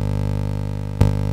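A raw synthesizer signal feeding a Synton Fenix delay: a steady buzzy drone with a rippling pulse and a brief click near the end, alone with no voice.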